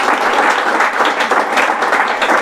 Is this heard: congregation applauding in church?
yes